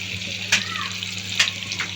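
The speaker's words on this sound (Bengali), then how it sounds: "দেখতে পাচ্ছেন আমি এখন ইলিশ মাছের ডিমটা দিয়ে দিচ্ছি।" Hilsa fish roe fries in a pan with a constant close sizzle and crackle, broken by a couple of brief louder spits.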